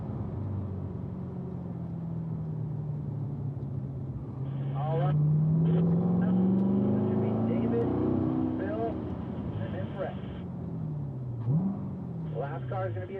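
A Corvette engine pulls in third gear on a track, its drone rising and falling in pitch as the car accelerates and eases off. Voices talk over it.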